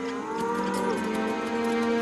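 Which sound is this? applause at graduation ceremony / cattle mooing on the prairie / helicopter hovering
cattle mooing on the prairie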